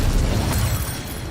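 Incendio fire spell cast in Hogwarts Legacy, a loud, dense fiery burst that roars for about a second and then gradually thins out.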